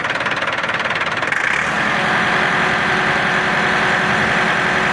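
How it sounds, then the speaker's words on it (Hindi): A Massey Ferguson 285 tractor engine idles roughly with a knocking diesel chatter, then holds a steadier, louder run as it is revved up, heard up close with no talking. "चेक करो दोस्तों गड्डी की आवाज़ जी बड़ी जबरदस्त है"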